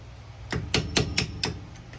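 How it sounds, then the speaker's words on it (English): Five sharp metallic taps of a hammer on a 1995 Chevy G20 hub cap in a steady rhythm, close by, followed by a couple of fainter taps, with no talking. "Just gonna tap it lightly with a hammer."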